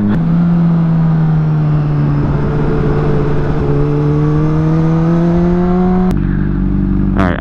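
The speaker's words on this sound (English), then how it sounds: "you want to rev?" A motorcycle engine holds a steady, loud drone close by, its pitch creeping slightly upward over several seconds before cutting off abruptly near the end.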